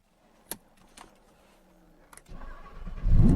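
A Lamborghini Huracán Tecnica with a V10 engine: a few sharp clicks in near silence, then the engine cranks and fires, its deep rumble swelling loud and close at the end.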